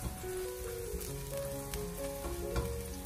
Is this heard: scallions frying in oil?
yes